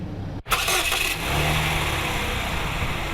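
A car engine cranks briefly and catches, then settles into a steady, smooth idle, loud and close with no talking; a mechanic's car at a Goshen gas station.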